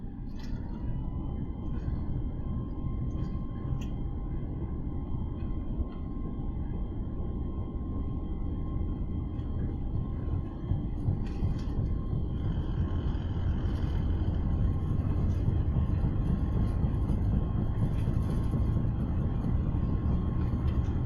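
Airbus A320 jet engines spooling up on the takeoff roll in Microsoft Flight Simulator, a steady loud broadband rumble and roar that swells toward the end, with no talk.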